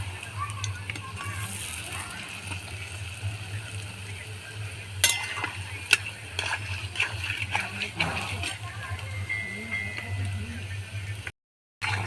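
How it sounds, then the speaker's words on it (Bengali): Steady sizzling of palm-fruit dough fritters (taler bora) frying in hot oil, with scattered pops and crackles and a voice talking over it. "এইভাবে উল্টে পাল্টে এই ফুরুলিগুলো ভেজে নেব"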